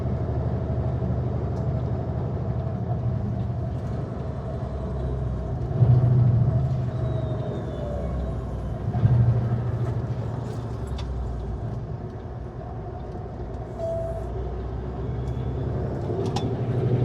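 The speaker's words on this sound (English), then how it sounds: "Looks like there's a Sutco chip truck pulling in." A chip truck pulls into a Kenworth service center, its diesel engine rumbling nearby. Air brakes release in short hissing bursts around the middle of the pass, over a low background of traffic.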